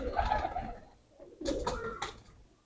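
Pigeons kept on a rooftop coo softly, with a rolling low call at the start followed by a few short, brighter bursts after a brief pause; no voices.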